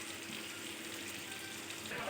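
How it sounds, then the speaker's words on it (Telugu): Chicken frying in a pan on a low flame, a soft continuous sizzle with faint crackles, quiet and steady for a couple of seconds. "ఇప్పుడు సిమ్లో ఇంకొక 5 మినిట్స్ మగ్గనిస్తాను"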